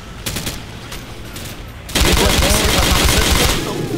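Gunfire in a Call of Duty match set in Rocinha, Rio: sparse single shots at first, then a dense, loud burst of rapid automatic fire that fills the rest of the stretch, with no speech over it.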